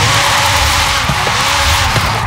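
In the Forza Horizon 5 video game, a McLaren Senna with traction control turned off slides out of control. Loud engine roar and tire skid noise run continuously throughout, close and dense, with no voices.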